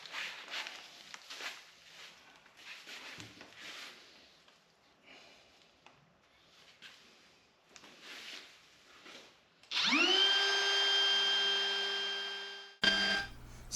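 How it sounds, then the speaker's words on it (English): A router fitted with a small bearing bevel bit spins up with a loud rising whine and runs steadily for a few seconds while beveling the edge of a hard dodger part, after quieter handling and shuffling noises. "I'm gonna take and bevel this edge down using a little beveling bit."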